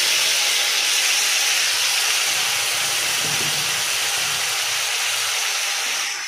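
Onion and ginger-garlic paste frying in a pan for a soybean and potato curry, giving a steady, loud hiss and sizzle that holds evenly throughout with no talking.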